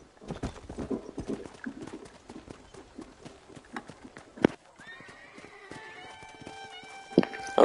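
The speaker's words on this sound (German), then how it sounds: "Ein gutes Pferd haben wir hier bekommen." Horse hooves clip-clop in Red Dead Redemption on PS4, a steady run of close, sharp footfalls, then a whinny with a few louder thumps near the end.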